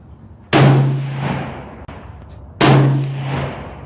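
Two loud, sharp rifle shots fired without a muzzle brake, about two seconds apart, each a sudden blast with a long rolling echo fading behind it outdoors.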